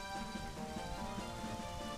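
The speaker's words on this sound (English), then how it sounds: "And now it starts raining." Rain falls steadily in the video game Zelda: Majora's Mask, a soft even patter beneath a quiet droning musical background, low in level and continuous with no voices.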